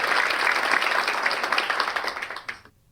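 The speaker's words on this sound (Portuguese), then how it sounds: "Uma salva de palmas para nosso irmão." Congregation applause in a church gathering, a dense burst of clapping at close range that thins into scattered claps near the end and stops abruptly into silence.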